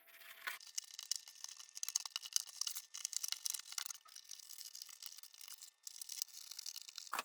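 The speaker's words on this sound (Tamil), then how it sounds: "இப்போ நம்ம மார்க் பண்ணி வச்சுருக்கிற இந்த பகுதியை மட்டும் தனியாக கட் பண்ணி எடுத்துடலாம்." Cardboard being cut to size, a quiet, close run of rapid scratchy scraping and crinkling strokes with brief pauses, no talking.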